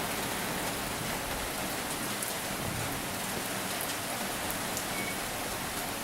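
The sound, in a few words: rain falling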